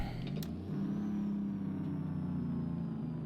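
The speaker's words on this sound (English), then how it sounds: "that Jake brake sounds real good, though." A heavy truck engine in American Truck Simulator rumbles loudly and steadily, its low droning tone shifting slightly as the Jake brake engages, with a brief click near the start.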